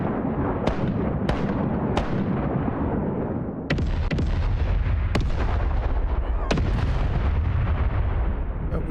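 A steady barrage of ship cannon fire from the pirate video game Rise of Piracy: loud, overlapping booms with sharp repeated cracks layered over a continuous low rumble.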